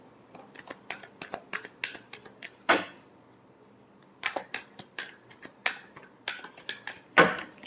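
Tarot cards shuffled by hand in quick bursts of crisp riffling and soft slaps, with two louder thumps as the deck is squared, close and clear with no talking.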